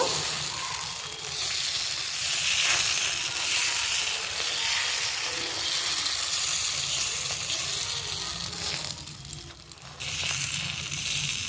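Gola ruti batter, three spoonfuls swirled into a round, fries on a pan with only a little oil, giving a continuous soft sizzle and hiss that holds steady with no talking.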